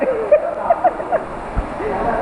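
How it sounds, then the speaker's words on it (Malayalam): An artificial rain shower splashes into a swimming pool at an infinity pool resort. Close, bright splashing and gurgling water runs underneath a voice talking. "സ്വിമ്മിംഗ് പൂളിൽ മഴ പെയ്യും"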